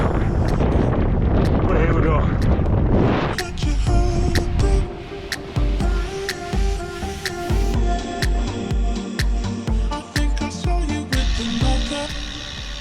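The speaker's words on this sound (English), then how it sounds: "Bit of a headwind" Wind buffets the microphone in loud gusts at first, then fades as a person talks over other background sounds.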